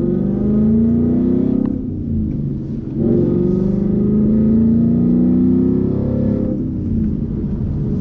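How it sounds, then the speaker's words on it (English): Deep, loud exhaust rumble from a 2018 Ford Mustang GT during a hard acceleration pull, rising in pitch through each gear with two brief dips between shifts, close and continuous. "The exhaust sounds way too good not to do that pull"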